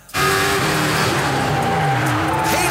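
A race car spinning out on track, tires skidding with a loud sustained roar and screeching scrub, engine noise underneath, continuous and close.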